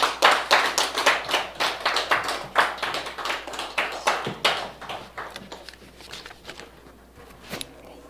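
An audience applauds warmly to welcome a lecturer onto the stage at a Korean history talk, a dense burst of clapping that swells early and then gradually thins out and fades.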